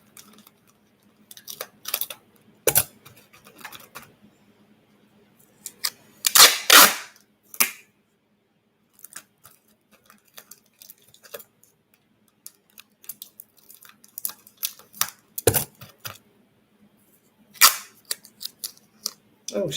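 Pocket tape dispenser used while binding a handmade paper envelope book, giving sharp separate clicks and snaps scattered irregularly across a quiet room, some in quick clusters, with long near-silent gaps between them.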